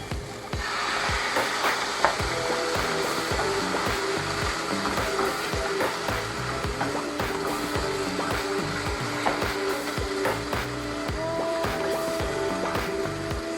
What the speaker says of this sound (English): Now we're going to add our coconut milk.